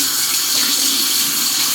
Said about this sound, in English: Now I'm going to wash it off my face.